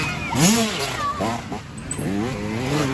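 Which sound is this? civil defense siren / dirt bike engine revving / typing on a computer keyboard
dirt bike engine revving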